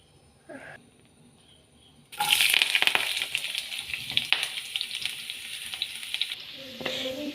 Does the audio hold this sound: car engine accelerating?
no